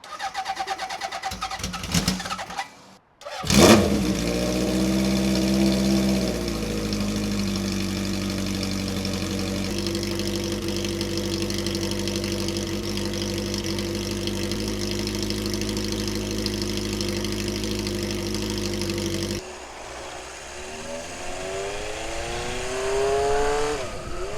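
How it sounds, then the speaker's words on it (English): A Honda CB750 motorcycle engine cranking and catching after a brief pause, then settling into a steady, close idle that shifts and drops in tone toward the end. "fire this thing up, see how she idles and fires, and let her warm up"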